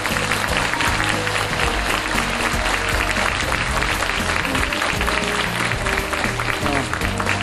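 A lecture audience of Ewha Womans University students applauds POSCO's chairman at the end of his CEO talk, with loud, dense, sustained clapping running throughout.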